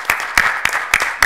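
Clapping from the audience at a city council meeting, heard as five sharp, evenly spaced claps in a quick steady rhythm, close and fairly loud.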